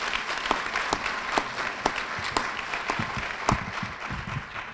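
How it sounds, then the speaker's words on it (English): Banquet guests at an NAACP Freedom Fund dinner give a round of applause: steady crowd clapping with several distinct, louder individual claps standing out. "you should give another round of applause to Brother Donald Jackson for his service"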